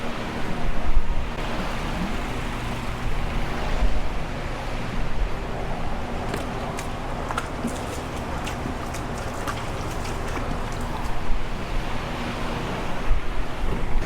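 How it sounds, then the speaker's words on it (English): Water spraying steadily over a car wheel during a rinse, a continuous broad hiss that holds for the whole stretch with small fluctuations and no talking. "Now I'm going to rinse this off as well."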